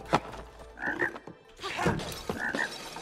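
Video game frog croaks from It Takes Two, heard as two loud, close, rasping croaks with a gap between them, alongside game thumps and no talk.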